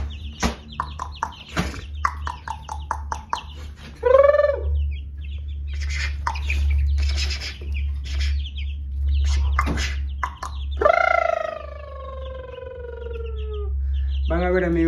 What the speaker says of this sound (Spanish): estos pollitos, los paripollos que han subido.